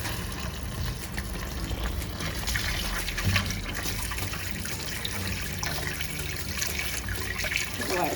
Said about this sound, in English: Washing my mushroom